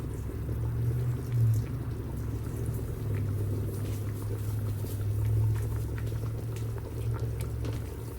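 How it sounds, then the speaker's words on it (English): Beef stew at a rolling boil in a pot on a Camp Chef grill, a steady close bubbling and popping with a low burner roar beneath, continuous throughout with no talking. "I turned it up to high, got it to a boil."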